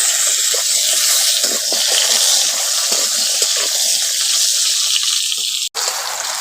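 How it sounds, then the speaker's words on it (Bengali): Potato pieces fry in a pan of oil, giving a loud, continuous hiss and sizzle close by, broken by a single sharp click near the end; no speech is heard. "আলুটাকে এখন ভেজে নিচ্ছি।"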